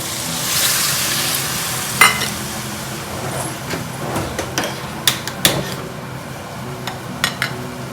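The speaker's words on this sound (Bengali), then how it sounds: "দেন এবার এতে অ্যাড করবো আমি জল" Water hitting a hot pan of frying chicken stew, a steady hiss and sizzle that settles into quieter bubbling, with occasional sharp clinks of a utensil against the pan.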